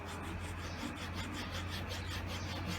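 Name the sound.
flat needle file beveling PVC board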